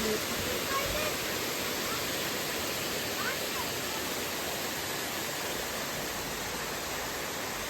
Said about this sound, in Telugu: ఇక్కడ కూడా చిన్న వాటర్ ఫాల్.